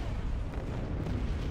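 Laser cannons fire in a Star Wars strategy video game: a dense, continuous rumble of booming shots, loud and steady with no break.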